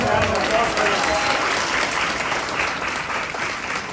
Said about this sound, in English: how about another warm round of